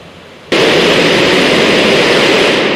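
Concorde jet engines spooling up to full takeoff thrust in the X-Plane 12 flight simulator: a sudden, loud, steady broadband roar that starts abruptly after half a second of quiet and holds constant to the end.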